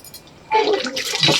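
Water splashes and runs in short bursts as dishes are washed at home, close by, following a brief quiet start.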